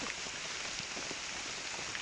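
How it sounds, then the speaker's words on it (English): Persistent rain pattering through woodland after hours of downpour, a dense continuous patter with occasional closer drops, moderately quiet and with no talking. "It hasn't stopped raining in over 12 hours."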